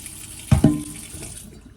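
Rice being rinsed under a running kitchen tap, two sharp splashy bursts of water close by, then a softer trickle fading out, with no talking.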